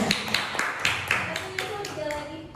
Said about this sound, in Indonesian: Keren, tepuk tangan, keren.